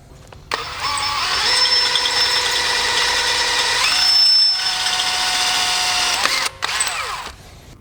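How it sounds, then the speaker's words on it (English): A power drill bores out a broken screw in a Volkswagen GLI brake rotor, one close, loud, steady whine that runs for several seconds, pitch sagging under load near the end, then a brief stop and a short second burst. "So we're just going to pull our rotor off and we'll drill and retap."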